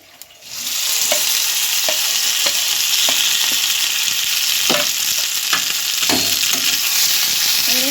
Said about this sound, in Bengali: এটা শিলে বেটে নিয়েছি, এবার কড়াইতে ভেজে নেব।